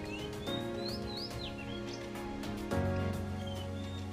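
An oriental magpie-robin sings in the wild, giving a few clear, rising and falling whistled phrases. The song is fairly faint beneath a steady background of music.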